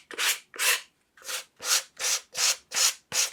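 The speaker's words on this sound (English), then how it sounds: "This is just a piece of wood connected to some sandpaper." A wooden block wrapped in sandpaper rubs across a wood workpiece in eight steady back-and-forth strokes, close and clear, each a raspy swish with brief pauses between.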